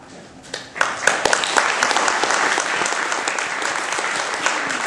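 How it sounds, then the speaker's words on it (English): Audience applause at a political event in Pittsburgh, a dense burst of clapping that swells quickly and holds steady, close and loud. "And we applaud them for that."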